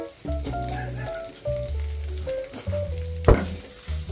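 Shawarma frying in a pan, a steady close sizzle with stirring and a sharp clatter near the end, alone without voices.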